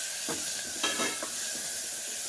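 Soft, continuous sizzling and hissing of a tomato dropped into a hot frying pan with sautéed ingredients, with a few faint stirring crackles, low and steady throughout.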